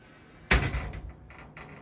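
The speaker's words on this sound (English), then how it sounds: "I'm going to close this door up for you" A door in a room housing a large Hot Wheels toy car collection is pushed shut with one sharp, solid thud, followed by a brief rattle and a few lighter knocks as it settles.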